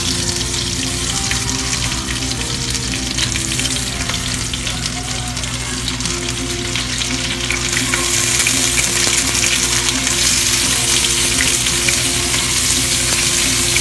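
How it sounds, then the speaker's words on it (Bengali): Tiger prawns fry in a hot pan with a steady, loud sizzle that grows brighter and fuller partway through, accompanied by faint stirring and no voices. "আমি চিংড়িগুলো ভাজবো"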